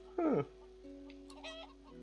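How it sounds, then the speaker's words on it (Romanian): A chicken in the video game Divinity Original Sin 2 gives one sharp, close cluck. Softer clucking and game tones follow in a quiet scene. "Găina asta e suspectă."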